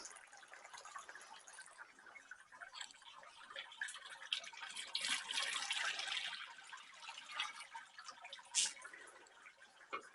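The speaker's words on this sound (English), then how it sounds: "I have a tank that I filled full of water, and we'll just start adding" Water poured into a beer mash tank while brewing a Czech Pilsner, a faint, continuous splashing trickle that rises and falls, with a few brief louder drips and no voices.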